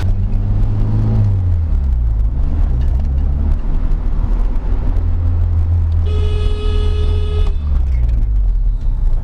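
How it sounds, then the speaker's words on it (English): A Nissan Sentra with a freshly repaired rusted brake line runs close by, a loud, steady low engine rumble building as the car pulls away, with a brief high whine partway through. "The car is warming up right now, and I'm gonna go ahead and go out for a drive"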